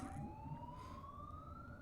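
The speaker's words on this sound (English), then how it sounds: "There's just a police car stuck in the air." Police car siren in the Forza racing game, a single steady rising wail heard loud and close with a continuous engine-like rumble beneath it and no talking.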